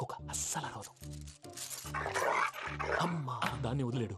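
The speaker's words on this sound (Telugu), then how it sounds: "ఇది కరిచే కుక్క అస్సలు అరవదు" A dog barks and growls in a comedic Telugu film scene, with loud bursts breaking up overlapping speech and a music score across the whole stretch.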